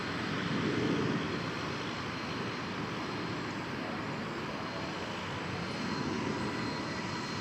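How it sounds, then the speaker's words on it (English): An American Eagle airplane arrives at DFW Airport, a steady broadband roar of engines holding at an even level from start to finish, with no voices over it. "Here comes an American Eagle flight from Waco, Texas."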